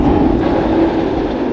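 Theme park train ride at PortAventura, a loud continuous rumbling rattle of the cars rolling along the track, close and steady throughout, with no voices.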